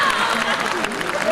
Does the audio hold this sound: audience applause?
yes